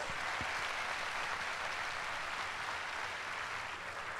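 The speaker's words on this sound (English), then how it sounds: "Please, let's greet them with a big, big round of applause." Crowd at the naming ceremony of the MSC Seaside cruise ship gives a big round of applause, a steady, even roar of many hands clapping, heard from some distance and sustained throughout.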